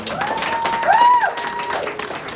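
Applause from the crowd at an art opening reception rises in a short, steady burst, mixed with a brief tonal sound in the middle.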